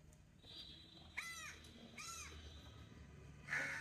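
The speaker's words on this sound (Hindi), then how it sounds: "ये कितनी देर से काव काव कर रहा है" A crow caws repeatedly nearby, with several distinct harsh calls spaced a second or so apart over a steady low background hum.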